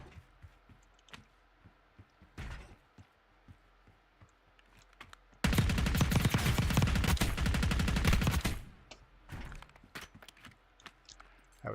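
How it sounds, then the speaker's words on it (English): Gunfire erupts in the video game Fortnite, a dense, loud burst of rapid shots lasting about three seconds, set between scattered single shots, footsteps and faint distant clatter. "That was some pretty bad shooting right there."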